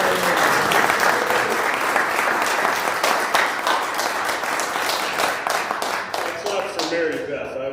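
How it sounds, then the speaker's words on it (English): Sustained applause from a crowd at an annual meeting, dense clapping filling the whole stretch and thinning slightly toward the end. "I was not fishing for applause here."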